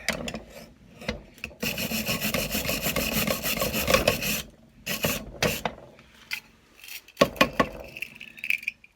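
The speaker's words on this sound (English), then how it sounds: "I'm just trying to take off a wee bit of the roughness of the paint that's around." Dried paint scraped off an old standard paint roller, a steady rasping rub for several seconds followed by shorter, scattered scratching strokes, close and fairly quiet with no voices.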